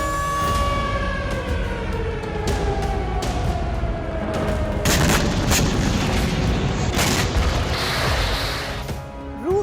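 Air raid warning sirens wailing, several slow rising and falling tones overlapping with loud booming bursts like artillery fire, in a dense, chaotic mix with no voices.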